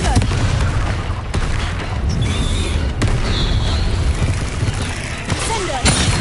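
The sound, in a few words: Confringo fire spell explosion in Hogwarts video game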